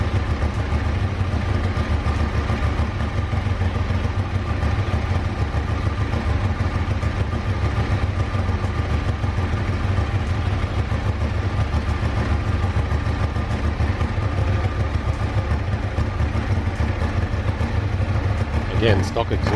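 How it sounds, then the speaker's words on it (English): A Ducati 1198 motorcycle with stock exhaust running steadily with a deep, throaty idle and rumble, loud and close throughout, with a brief sharper blip near the end. "Again, stock exhaust, but it still sounds pretty good."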